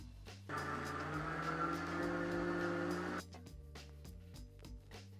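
A motor whirs steadily for about three seconds, like a blender running on low, then cuts off, leaving a faint hum.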